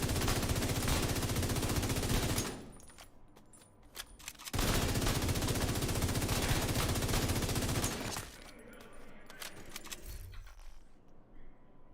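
Rapid automatic gunfire at targets in the shooter game The Division 2 comes in two long, dense, sustained bursts separated by a short pause, followed by quieter, scattered shots and clatter.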